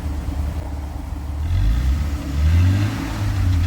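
A low, rumbling stock exhaust on a Ford EL Fairmont drones from inside the cabin, swelling slightly as the engine revs, steady and muffled.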